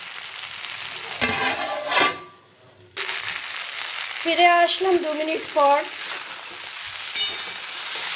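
Drumstick vegetables fry and get stirred in a pan over a gas flame, a steady close sizzle broken by scraping stirs, with a short lull and brief speech partway through.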